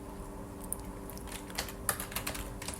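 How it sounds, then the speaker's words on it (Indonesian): Close, fast typing of HTML code on a computer keyboard, with irregular bursts of sharp key clicks and short pauses, and no voices. "kita ketik di sini ada open tag-nya"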